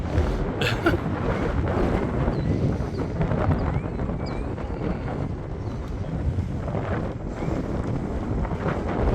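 Strong wind buffets the microphone outdoors at an RC flying field during a flight of an E-flite Cirrus SR22T model plane, a loud continuous rushing roar with gusty swells and no clear voices.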